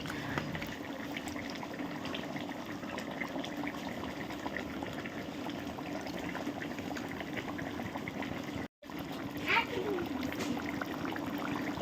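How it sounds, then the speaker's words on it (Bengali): Pots of meat curry and fish curry bubble on the stove in a home kitchen, a continuous soft boiling and gurgling that runs on steadily with one brief dropout. "মাংসটা ফুটছে ওদিকে মাছের ঝোলটাও ফুটছে"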